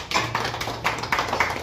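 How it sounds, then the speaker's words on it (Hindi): A few scattered claps at a small ceremony in Darbhanga, where a man is being congratulated; sharp, separate hits spaced irregularly, fairly close and moderately loud over a low steady hum, with no talk. "ताली बजाइए।"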